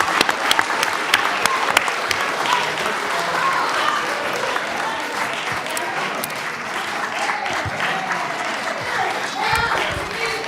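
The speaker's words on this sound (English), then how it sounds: "let's just give a round of applause to the kids here" An audience at a municipal council meeting applauds kids headed to a championship, steady clapping running the whole length at an even level, with a few voices mixed into the crowd.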